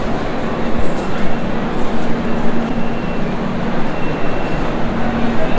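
Loud, steady rumble of a busy railway platform at Sealdah station beside the Puri Duronto Express, a constant dense roar of engines and crowd noise with a faint hum running underneath.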